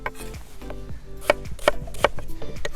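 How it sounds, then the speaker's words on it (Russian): Knife chopping onions into half rings on a board, a quick series of close, crisp cuts with a few louder knocks, no speech over it. "И первым делом я нарежу лук."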